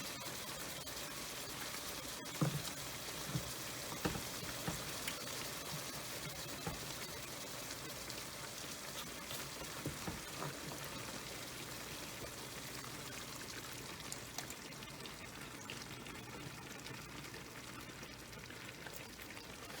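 Cream poured into a dish for a creamy tomato shrimp rotini, a steady liquid pour and trickle running continuously for about twenty seconds, fairly quiet and close, with no talking.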